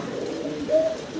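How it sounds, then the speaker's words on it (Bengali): Pigeons kept in a pigeon house give a short, soft, low cooing call, close by, heard alone without any talking. "এখানে আছে মোট 3 জোড়া কবুতর দেখতে পারতেছেন"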